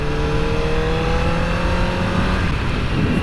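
A 2008 Honda CBR1000RR sport motorcycle engine droning steadily while riding through commuter traffic, a continuous loud close-up hum with a gradually shifting pitch and wind rush.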